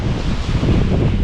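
Waves wash along Gallipoli Beach in a continuous low rumble, heavily blended with wind noise hitting the microphone, loud and close with no speech.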